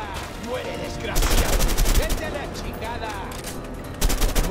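Shotgun and other gunfire in the co-op video game A Way Out, with repeated dense bursts of shots, louder volleys near the start and end, over a continuous backdrop of game noise.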